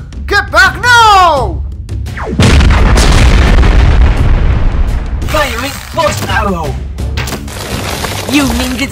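Heavy cannon blasts from a LEGO Ninjago snake cannon boom and rumble for several seconds, with excited voices shouting before and after the explosions.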